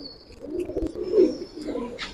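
Several pigeons, flying birds offered for sale by a loft keeper, coo in low rolling murmurs close by, a steady overlapping burble with a louder swell partway through and a faint higher chirp near the end.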